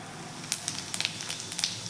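Cumin seeds crackle in hot oil in a kadhai on a gas stove, with sharp scattered pops over a soft continuous hiss and no speech.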